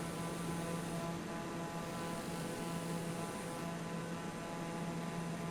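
A steady propeller-driven airplane engine drones in a flight simulator over Glacier National Park, a constant even hum with a fixed tonal whine and no change in pitch.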